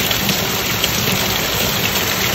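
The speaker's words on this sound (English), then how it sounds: "A lot of rain." Heavy rain pours steadily outside a rural homestead's front door, a dense, continuous hiss of drops on surfaces with no pauses or voices.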